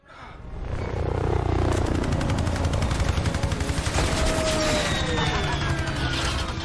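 Gunfire from the action movie The Expendables 3, a sustained burst of rapid automatic shots with booming low end and explosions, loud and dense, with faint voices mixed into the soundtrack.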